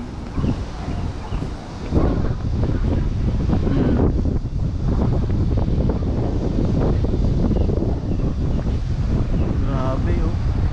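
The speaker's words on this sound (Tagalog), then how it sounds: "Ang hangin." Strong wind buffets the microphone at a scenic high viewpoint in Macau, a loud continuous roar with gusts throughout, while a person speaks excitedly over it.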